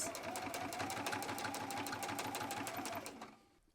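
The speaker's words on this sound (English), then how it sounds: "I'm just sewing along this edge about 1/8 of an inch away from the edge" A sewing machine runs steadily, topstitching small D-ring straps for a drawstring purse; a fast, even mechanical whir with rapid needle ticks continues close-up for about three seconds and then stops.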